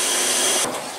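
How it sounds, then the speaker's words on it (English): A PM727M mill drills a thread hole in 3/4 inch stock, a loud close whirring whine that drops off sharply about two thirds of the way through the clip. "Now we're drilling our hole for our threads here."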